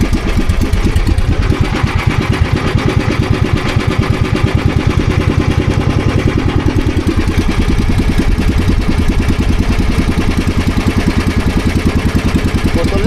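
A loud boat engine runs steadily throughout with a rapid, even chugging rhythm, close by and unbroken.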